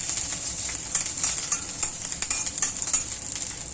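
Niger seeds (khurasni) roasting dry in a pan give a steady bright crackle and sizzle, with small sharp pops scattered through it, close and moderately loud with no voices.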